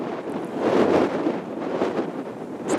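Steady buffeting wind outdoors batters the microphone in a continuous broadband roar with gusty swells and no speech, suggesting an exposed spot during a break on a hunting outing.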